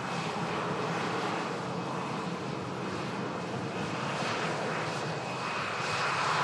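Hainan Airlines Airbus A330 jet taxiing at Manchester Airport, a continuous, fairly distant engine rumble and hiss that stays even, with a slight swell near the end and no talk.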